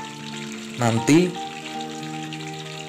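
Raw potatoes frying in hot oil over high heat give a steady, close sizzle, with a brief louder burst of bubbling partway through and a voice speaking over it.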